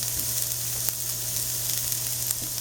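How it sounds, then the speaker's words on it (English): Chopped onion frying in a pan for stuffed bell peppers, a constant close sizzle with faint crackles and a low steady hum beneath it. "I got one little medium-sized onion I've cut up. We're going to throw it in there and get a little color on it."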